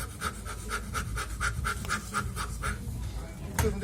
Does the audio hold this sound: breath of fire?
yes